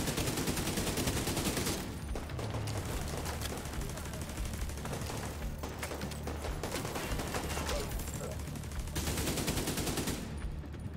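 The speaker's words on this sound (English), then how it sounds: "He was about to get on a minigun." Sustained rapid automatic gunfire from a minigun in the shooter game Tom Clancy's The Division 2, loud and continuous with dense bursts, briefly easing twice before resuming at full intensity, with no talk over it.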